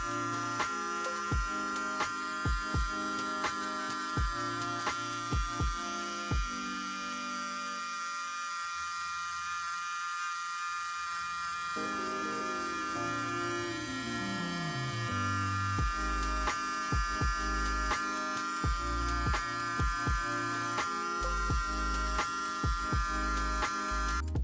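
Hair clippers with a 0 guard and lever fully open buzz close and steadily while blending a low fade, with a gap where they go quiet and the pitch shifting as they restart.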